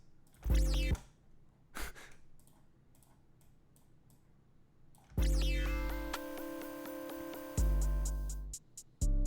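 Sharp percussive hits alternate with quiet gaps, then a tonal drum groove with rapid snare strikes plays loudly in bursts.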